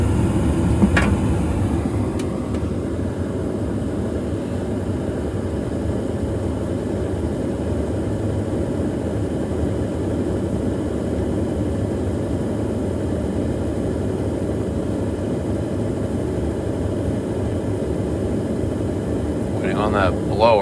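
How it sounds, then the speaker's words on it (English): A Luxaire furnace's blower runs after ignition with a steady, loud, low whooshing rumble that carries on unchanged across the whole stretch, along with a few faint clicks. "There's the blower. So the blower is on."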